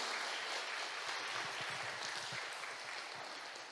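Church congregation clapping in encouragement during a service, a faint steady round of applause filling the room.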